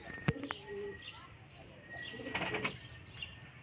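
Pigeons, a Seth-line cock and Ferozpuri hen offered for sale in Lahore, give soft low coos alongside a quick burst of wing flaps and faint chirps, close by and quiet against background noise.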